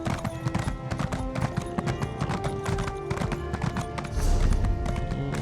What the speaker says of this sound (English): Really need to get this horse speed up.